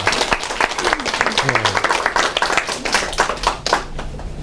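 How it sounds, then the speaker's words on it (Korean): A lecture audience claps together, loud and close, in quick, uneven bursts with crisp individual hand strikes, while a voice talks over part of the applause as it tapers off. "박수도 한번 치겠습니다."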